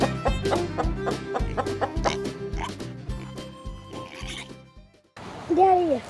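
Chickens cluck in a busy, repeated rhythm close by on a roof, with scratchy shuffling noises, then a brief louder squawk near the end.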